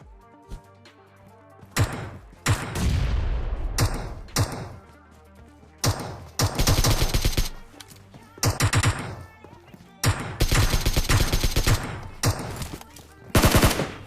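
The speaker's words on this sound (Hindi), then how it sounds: "बोट पीछे मेरे गोलियां बजाया जा रहा है" Bursts of automatic gunfire from a computer-controlled bot in PUBG, loud and close, firing in several long volleys separated by short pauses.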